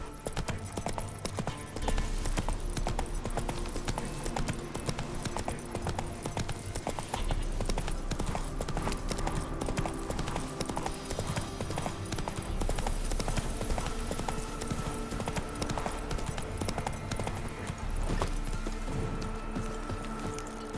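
Steady horse hooves clip-clop at a trot throughout, with a dense game soundscape around them, from The Witcher 3: Wild Hunt on PS5 in the Velen region.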